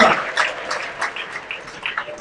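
A church congregation claps during prayer, a run of uneven hand claps at moderate loudness, fairly close and continuing for a couple of seconds.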